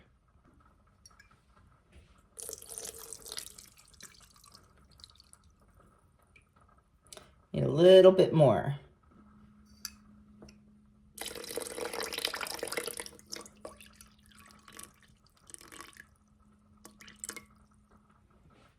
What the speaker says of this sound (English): To that, we're going to add 350 grams of filtered water.